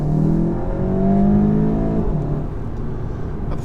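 Engine of a VW Golf GTI pulling hard under full acceleration, a steady loud drone with rising harmonic tones that climb through the revs, heard continuously from inside the car.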